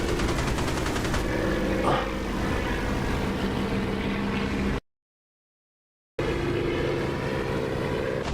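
A jet aircraft engine in the DCS flight simulator game, with the canopy open, gives a steady, loud drone that cuts out to silence for about a second and a half, then resumes.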